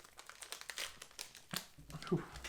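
A plastic sachet being torn open and crumpled, crinkly in a few sharp bursts, close by, with a person speaking intermittently over it.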